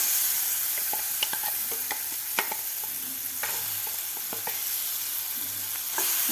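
Blended potato thecha fries in hot oil in a pan over medium heat, a dense, even sizzling hiss close up, with frequent light scrapes and taps from stirring throughout.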